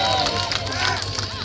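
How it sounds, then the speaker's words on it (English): A crowd at a chilli eating contest at a food festival cheers and claps in a dense, steady roar of many voices, loud and close, with babble mixed through the applause. "Big cheer for Dexter, come on."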